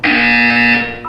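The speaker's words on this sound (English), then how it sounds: "You will hear a buzzer." A loud, steady electronic buzzer from a video game blares for about a second, then cuts off, followed by a brief higher electronic blip.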